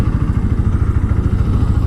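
A road motorcycle, not a dirt bike, idles close by while being parked beside a car, its engine putting out a steady, loud low throb with a rapid pulsing rhythm throughout.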